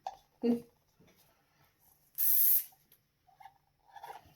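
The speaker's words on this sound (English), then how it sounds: "I like to spray a little bit of the silicone lubricant. It's just a quick spray into the cup." A single short hiss of silicone lubricant aerosol sprayed into a cup, lasting under half a second, close and fairly loud, amid quiet handling noises and a few soft knocks.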